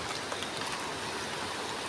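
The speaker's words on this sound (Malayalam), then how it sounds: "മഴ ചെറുങ്ങനെ വരുന്നുണ്ട്" Steady, soft hiss of light rain falling, an even wash of noise with no breaks and no voices.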